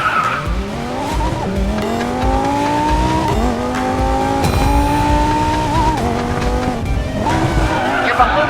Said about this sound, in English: Drift to narrow the gap with the car in front.